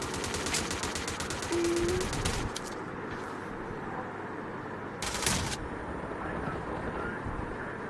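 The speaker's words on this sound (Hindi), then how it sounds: "यार उस बंदे को हमने इतनी गोलियां मारी लेकिन वो फिर भी नहीं मरा।" Gunfire rings out in an online shooter match, with one long rapid burst followed by a shorter one a few seconds later. Both are sharp and close, over steady background game noise.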